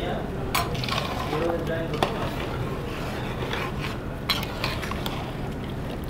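A thick chicken biryani masala bubbles and sizzles steadily in a pot over high flame, with occasional metallic clinks and scrapes of a spoon stirring.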